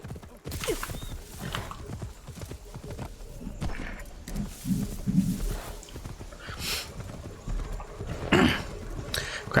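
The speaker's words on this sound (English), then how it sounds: "let me call my horse" Horse summoned in the Assassin's Creed Shadows video game: repeated hoof clip-clops and a brief whinny over busy game ambience, moderately loud and continuous.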